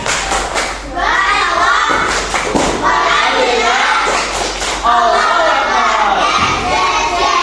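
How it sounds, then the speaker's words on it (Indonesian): Students in an Indonesian classroom perform a tepuk semangat spirit clap, loud rhythmic bursts of clapping and shouted chanting in repeated phrases with brief pauses between, close and energetic. "Ustaz pengen antum melakukan tepuk semangat"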